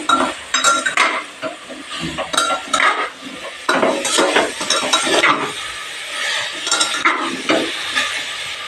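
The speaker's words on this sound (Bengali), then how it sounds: "সবজিগুলো টমেটো বিনস গাজর আলু দিয়ে আর একটু ভালো করে নেড়ে নেবো" Tomato, beans, carrot and potato get stirred into a chicken stew in a pot, a utensil scraping and clinking against the metal in a steady rhythm over a soft sizzle from the heat.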